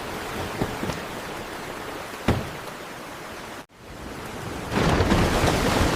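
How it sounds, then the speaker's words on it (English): Steady heavy rain hisses throughout, with a couple of sharp thunder cracks and a swelling downpour near the end; no voices. "This storm is getting worse."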